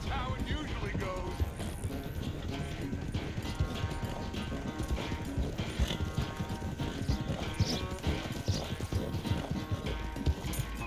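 Horse hooves gallop in Red Dead Redemption 2, a fast continuous clip-clop rhythm running throughout alongside game music and ambience.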